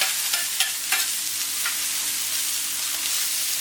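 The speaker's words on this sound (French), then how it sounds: "Ah, ça grille. Les oignons grillent." Onions frying in a pan for a grilled hanger steak with bordelaise sauce, giving a dense, even sizzle heard close up, with a few faint stirring clicks near the start and no talking.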